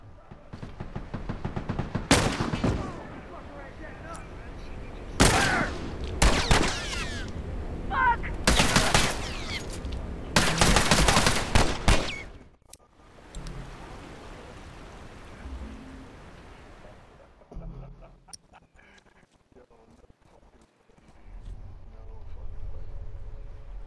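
Bursts of rifle gunfire from an enemy Firefly soldier in The Last of Us Remastered, loud close shots clustered in the first half, then quieter ambience with scattered softer sounds and voices.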